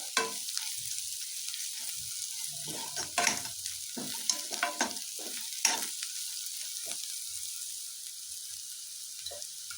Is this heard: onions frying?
yes